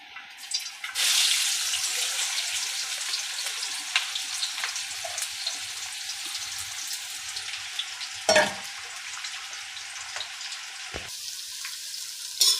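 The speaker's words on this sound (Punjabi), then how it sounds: "ਆਪਾਂ ਇਹਨਾਂ ਨੂੰ ਪਿਆਜ਼ ਹੁਣ ਤੇਲ ਵਿੱਚ ਪਾ ਦਿੱਤੇ" Onions fry in hot oil for an okra sabji, a steady bright sizzle that runs throughout with occasional stirring and a couple of sharp utensil clatters against the pan.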